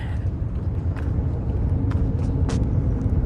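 A low, continuous rumble of Highway 401 traffic passing overhead in North York, Toronto, muffled and steady, with a few faint higher clanks and hisses above it.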